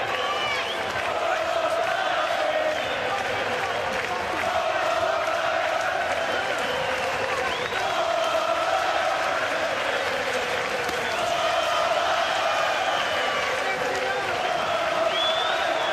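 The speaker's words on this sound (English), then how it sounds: "the crowd really getting behind Ryan Burnett" A boxing crowd cheering at a title fight in Belfast, a continuous roar of voices with swelling chants and shouts, steady and loud throughout, with commentators talking over it.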